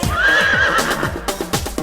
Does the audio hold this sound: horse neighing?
yes